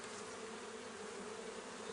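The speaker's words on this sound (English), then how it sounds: "these bees are really good, like there's a few hovering around" Honey bees hover around a nuc hive, making a continuous close buzzing drone that holds steady and even throughout, with no voices.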